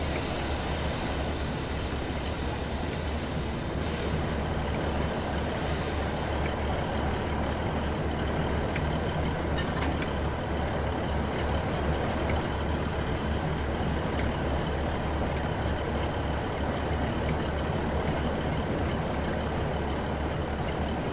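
A Class 08 shunter locomotive moving through the Penzance yard in Train Sim World 4, giving a steady, continuous diesel engine drone and rumble that holds a constant level throughout with no talk.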